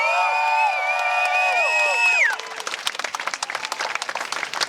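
Crowd at a Pride rally in Maastricht bursts into cheers, whoops and shouting, which give way to steady, dense applause and clapping from many people nearby.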